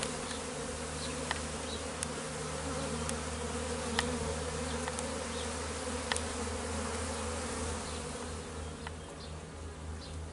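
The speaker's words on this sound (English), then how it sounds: "bees are really wanting to get up and go" A dense, steady drone of many honeybees humming close by at an opened hive, with occasional individual insects buzzing past, continuous for the whole stretch.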